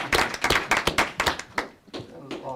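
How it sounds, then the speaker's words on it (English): Audience at a city council meeting clapping, a burst of sharp, close hand claps forming brief applause that thins out toward the end, with some talk mixed in. "I think that should be applauded."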